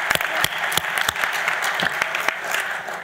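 Audience applause for the ACLU at a civil and human rights award ceremony, steady clapping from a crowd throughout, with a few sharper individual claps standing out and no talk.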